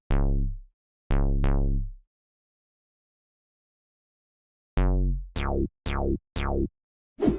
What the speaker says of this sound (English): Then we also got some sub basses, and this is what it sounds like.